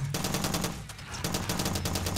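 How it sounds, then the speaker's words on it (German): Enemy gunfire in the Far Cry 2 video game, rapid repeated automatic shots in steady bursts, loud and continuous with no talking. "Wieso schießen die alle auf mich?"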